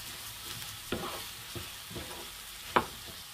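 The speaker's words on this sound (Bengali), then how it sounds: "পেঁয়াজগুলো দেওয়া হয়েছে। এখন আমি তেলের সাথে একটু মিক্স করে নিয়ে" Long-cut onions are stirred into hot oil in a pan, giving a quiet, low sizzle broken by a few distinct scrapes and taps of a spoon, with one sharper clack near the end.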